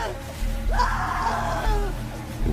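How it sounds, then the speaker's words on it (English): A woman's ear-piercing, gut-wrenching scream rings out near a camping tent at night, one long wavering cry lasting over a second over a low rumbling drone, loud and close. "there was an ear-piercing, gut-wrenching scream that sounded like a girl or woman's scream"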